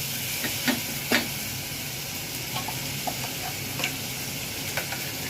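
Tomato simmering in oil for a Telangana-style dal gravy, a steady close sizzle and hiss with a few scattered spoon scrapes and taps of stirring, no voices.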